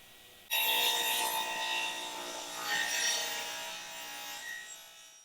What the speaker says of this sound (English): I'm just kind of rough cutting it to length